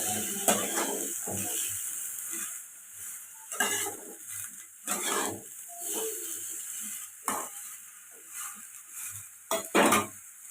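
A spoon stirs carrots, beans and chopped tomato together in a hot cooking pan. Intermittent scraping and clattering strokes come over a soft sizzle, close and moderately loud, with no talking.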